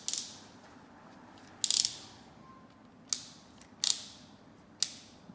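Sharp ratcheting clicks from a hand tool driving a screw while mounting an evacuation arm, five short bursts spaced about a second apart, close and crisp over a quiet background.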